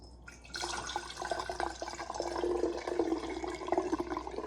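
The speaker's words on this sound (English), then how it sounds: "And then we pour our bone broth just like this." Hot homemade bone broth pours from a pot into a jar resting on a plate, a soft continuous splashing stream that begins abruptly and runs steadily without speech.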